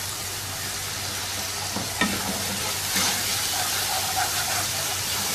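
Onion, tomato paste and ginger-garlic paste sautéing in a pan for mutton kofta curry, a steady close frying sizzle with faint stirring scrapes and a couple of light clinks.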